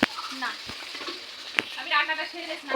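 A metal spatula scrapes and stirs food in a sizzling frying pan, with steady frying hiss and clanks near the start and middle, while voices talk faintly underneath.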